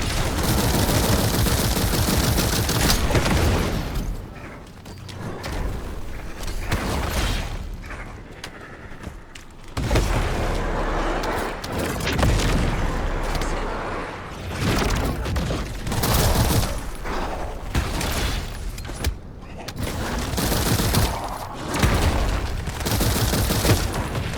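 Sustained gunfire in The First Descendant video game: dense automatic bursts with booming impacts, broken by a couple of brief quieter lulls before resuming loudly.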